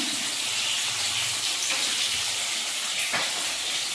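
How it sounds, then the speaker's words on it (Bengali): Fish frying in a pan, a steady bright sizzle and hiss filling the background with small pops, close and continuous without speech. "মাছ ভাজাটা বসিয়ে দিলাম"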